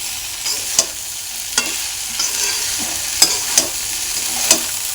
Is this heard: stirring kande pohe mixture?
yes